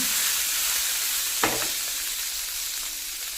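Green chilli, garlic and ginger frying in hot oil in a pan, a constant close sizzle with one brief stirring clatter near the middle and no speech.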